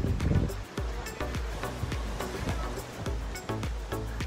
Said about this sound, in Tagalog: Masarap pakinggan yung hampas ng tubig sa batuhan